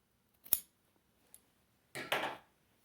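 Scissors trimming, with a sharp snip, a faint tick, then a longer crisp cutting sweep, close and isolated against near silence.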